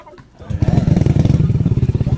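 Honda Click 160 scooter fitted with a full system muffler starts up and settles into a loud, close, throbbing idle with rapid even pulses.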